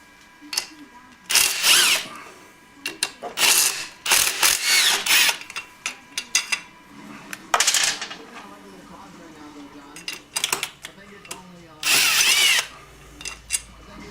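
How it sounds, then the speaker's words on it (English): Tools loosening a nut on a Honda Grom engine during a motor rebuild, with bursts of loud ratcheting and mechanical whirring, metallic clicks and clatter between them, all close up. "This one you can actually kind of hold with your hand as you loosen it."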